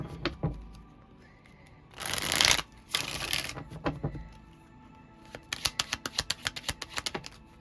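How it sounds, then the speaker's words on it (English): A deck of tarot cards being riffled and shuffled up close in a quiet room: two bursts of fluttering, then a quick series of snapping taps. "I have to keep shuffling this deck."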